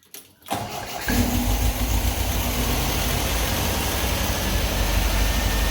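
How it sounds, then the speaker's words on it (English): A car engine in need of tuning cranks and catches, then settles into a steady, fast idle that hums loudly and evenly up close. "It's idling a bit high, so I gotta tune it a bit more."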